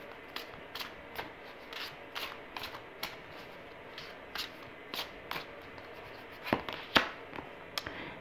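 Tarot cards are shuffled in quick, soft riffling bursts that repeat at a steady rhythm, close and quiet, with no speech.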